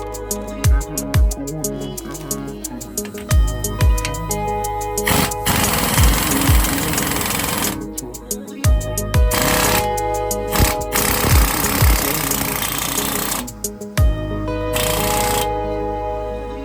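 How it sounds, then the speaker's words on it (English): A leaf spring bushing is driven into a shackle on a 2002 GMC Sierra with an air hammer, with long loud rattling bursts broken by short pauses and single metallic knocks, close and harsh throughout. "That will help when it's time to press the bushing in."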